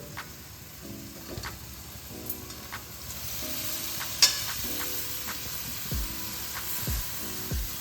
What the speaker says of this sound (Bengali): এবার আমি দেব এর মধ্যে শ্রেড করা চিকেনগুলো